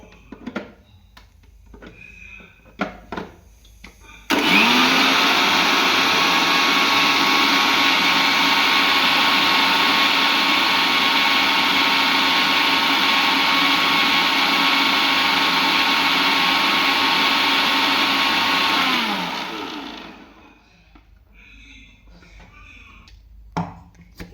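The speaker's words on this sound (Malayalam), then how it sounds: "എന്നിട്ട് വീണ്ടും ബ്ലെൻഡ് ചെയ്യാനായിട്ട് മിക്സിയിലേക്ക് ഇടുക." A mixer grinder blending mayonnaise whirs loudly and steadily for about fifteen seconds, then winds down to a stop, with quiet handling noises before and after.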